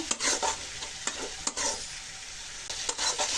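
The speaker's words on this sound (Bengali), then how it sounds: "মশলাটাকে ভালো করে ভাজিয়ে নিয়ে" A spice paste with turmeric sizzles in a hot pan while a spoon scrapes and stirs it in repeated quick strokes, close up with no talking.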